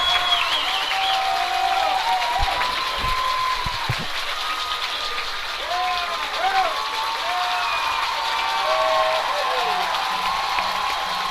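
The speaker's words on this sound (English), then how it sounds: "he's going to get a huge round of applause from the Sinton faithful" A high school baseball crowd cheering and applauding a departing sophomore pitcher, steady and somewhat distant with occasional whoops, under a commentator talking.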